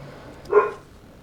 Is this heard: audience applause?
no